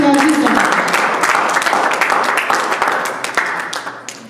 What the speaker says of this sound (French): On applaudit pour toi